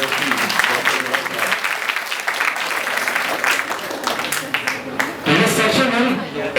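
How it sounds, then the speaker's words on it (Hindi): An audience at a university panel discussion breaks into sustained applause to welcome the vice chancellor, steady dense clapping throughout, with a surge near the end and voices mixed in. "भरपूर तालियों में वाइस चांसलर"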